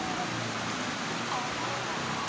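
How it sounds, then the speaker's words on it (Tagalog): Heavy rain pours outside a restaurant as a dense, steady hiss and patter that fills the whole stretch without a break. "Malakas ng ulan sa labas"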